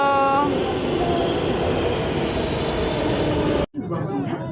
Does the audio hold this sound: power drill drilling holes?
no